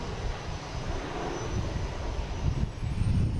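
A Southwest airliner in Canyon Blue retro livery arrives at Boston Logan, giving a steady broadband roar with low rumble that swells slightly toward the end, heard at a distance with some wind.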